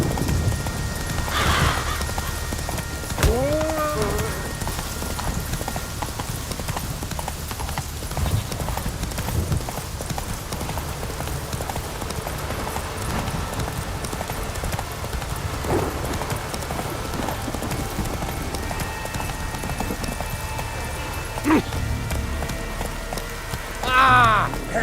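Roach the horse gallops in The Witcher 3, a continuous rhythmic clip-clop of hooves under patter resembling rain, with brief whooshing and metallic game effects scattered through.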